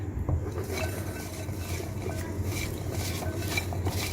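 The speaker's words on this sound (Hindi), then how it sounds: "थोड़ा सा नमक ऐड कर देंगे और थोड़ी सी काली मिर्च, और इन्हें अच्छी तरह से मिक्स कर लेंगे" Fries being tossed with salt and black pepper in a bowl, a continuous close rustle and scrape with light clinks of a utensil against the bowl, steady and fairly quiet with no voices.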